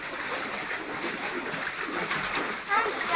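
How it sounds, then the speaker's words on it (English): Water splashes and rushes past someone's legs while wading in moving water, a constant churning wash with occasional sharper splashes, close up, with people talking over it. "Look at that water going zooming by you."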